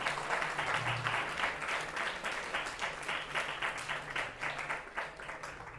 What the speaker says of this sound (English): I want the biggest round of applause for all my beautiful Saivisa family healers sitting here